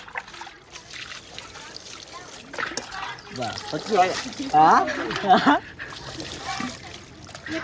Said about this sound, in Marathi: पाणी टाका हातावरती